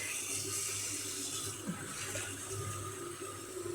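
Tap water runs steadily into a sink or bowl as the soaking water for eggplant is changed, a continuous close splashing hiss with a low hum beneath and a brief clunk midway, without talking.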